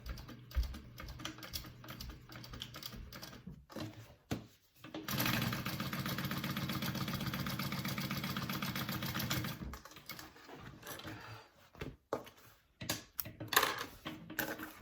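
A sewing machine runs a steady continuous burst of rapid stitching on a divided pocket of a tote bag, flanked by short clicks and taps of handling before and after.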